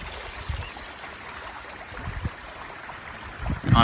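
Water flows and trickles steadily, a soft continuous rush with occasional low gurgles and bumps, fairly quiet throughout.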